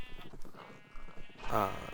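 Sheep bleating in the Minecraft FTB Ultimate modpack, a single loud bleat near the end after quieter game background sounds.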